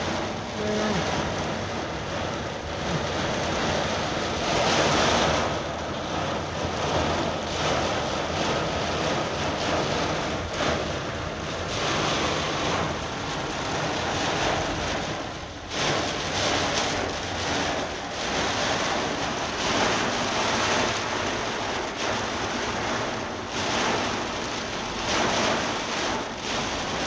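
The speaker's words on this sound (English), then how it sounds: "Heavy rain." Heavy rain pours in Florida beside a street drain, a steady, loud broadband hiss of downpour with gusty wind noise on the microphone, continuous throughout.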